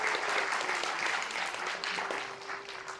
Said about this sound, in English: please give a round of applause for Dinesh D.C.